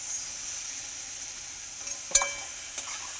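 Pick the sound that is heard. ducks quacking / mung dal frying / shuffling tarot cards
mung dal frying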